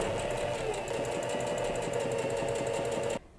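A sewing machine runs steadily, stitching a navy-blue holding seam along fabric for a gathered dish towel border, with a continuous close mechanical whir and rapid needle rhythm that stops abruptly near the end.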